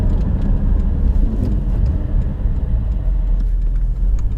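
2020 Porsche 718 Cayman GT4 sports car engine heard from inside the cabin, a loud, steady low rumble and drone filling the car without talk.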